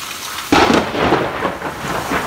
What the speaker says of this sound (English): It's literally hail. Yeah. It's not even rain, it's hail.